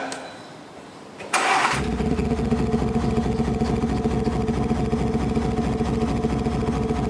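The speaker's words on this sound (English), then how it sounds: "we're now going to do the sound demo with the QuickSilver sound generator all installed" A Land Rover Defender 110 fitted with a QuickSilver V8 exhaust sound generator cranks over and starts, then settles into a loud, steady, close idle.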